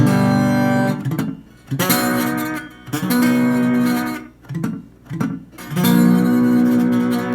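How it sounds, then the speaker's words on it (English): Sustained slide guitar notes with gliding pitch, strings deadened behind the bar, played in short phrases separated by brief gaps, clean and fairly loud with no voices. "I have my third finger deadening all the strings so it sounds like this again."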